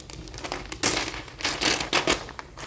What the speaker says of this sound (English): So what I could do is rip out a sheet of paper